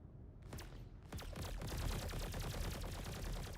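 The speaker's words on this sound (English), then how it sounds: "That's a lot of gunfire, though." Rapid bursts of gunfire in Star Citizen rattle continuously, dense and loud, with sharp repeated shots layered over a heavy low rumble.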